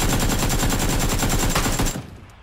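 An AK rifle in PUBG fires a rapid automatic burst of about a dozen close, loud, evenly spaced shots, then stops with a short fading echo.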